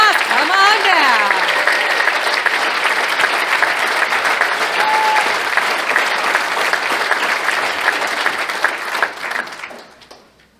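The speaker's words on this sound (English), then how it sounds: "You have your own cheering section." Audience applause and cheering at a philanthropy awards ceremony, a loud sustained wash of clapping with a whoop near the start, lasting about nine seconds before fading out.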